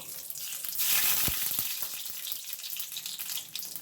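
Nigella seeds sizzle in hot oil in a wok, a steady close crackling hiss that swells early and keeps frying with small pops throughout.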